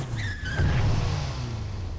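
A motorcycle in the Devil May Cry game arrives at the Devil May Cry shop, giving a loud, close engine roar with a brief tire-skid sweep through the middle.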